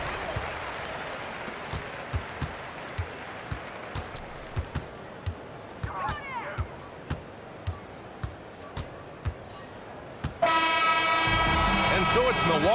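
Virtual arena crowd in the basketball game NBA 2K26, Bucks at Raptors, heard beneath steady dribble thumps and sneaker squeaks, then swelling into a loud broadband roar near the end.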